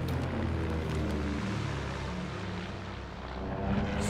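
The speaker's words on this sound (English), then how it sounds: "Strike aircraft ready to engage." Strike aircraft drone steadily overhead in Call of Duty WWII, a continuous propeller-engine roar holding at a constant level for a few seconds, with no speech.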